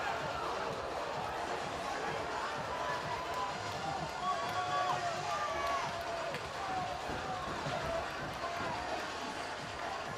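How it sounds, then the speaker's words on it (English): A hockey crowd at Eagles Ice Center in a college Calvin versus Hope game keeps up a steady distant roar and chatter, with skates and rink noise underneath and a commentator talking over it. "the crowd at Eagles Ice Center is reinvigorated"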